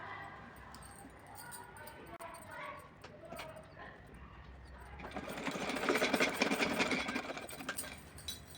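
Sewing machine locking the side edges of a net fabric dress for a small Laddu Gopal idol, whirring louder and denser toward the end after a quieter stretch.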